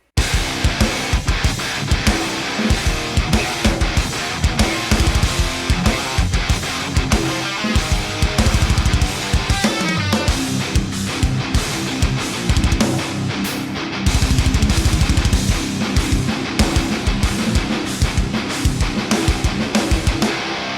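Quad-tracked distorted metal guitars pound out a riff together with a full drum kit, loud and dense, with punchy kick and snare hits and a few short breaks, and no one speaking.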